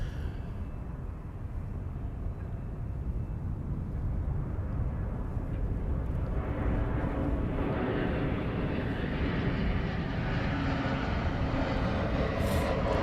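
A jet airliner flies low past Amsterdam Schiphol Airport and climbs away again; its engine roar swells and brightens as the aircraft approaches, then holds loud and steady as it climbs.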